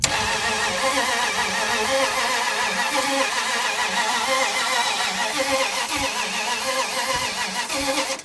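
A 1980 Dodge Power Wagon that sat for 20 years cranks hard and tries to catch, a steady loud mechanical churning with rhythmic pulses running throughout, no voices over it.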